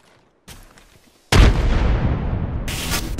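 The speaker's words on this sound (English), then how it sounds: "Taking fire." Gunfire in the game Apex Legends: a muffled shot, then a loud blast that rolls into a sustained, dense burst of firing and rumble, with a sharper crackle near the end.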